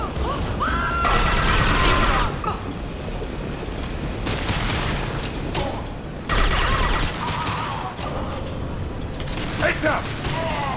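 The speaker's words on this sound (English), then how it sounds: "Firing concussive shots." Concussive shots fired in Mass Effect 2 combat, heavy bursts repeating every few seconds over a dense battle din, with voices calling out during the fight.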